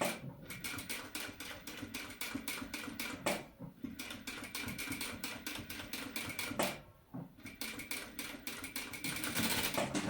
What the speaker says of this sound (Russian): Вторую строчку я делаю уже на ширине лапки.